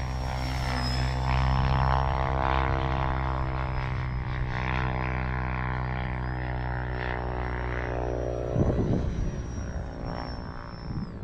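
A small E-flite Valiant RC propeller plane's engine whines steadily and loudly close by, its pitch sliding as it sweeps past, with a gust of wind noise near the end.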